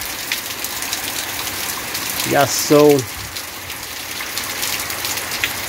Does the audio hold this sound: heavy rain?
yes